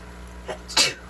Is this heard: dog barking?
no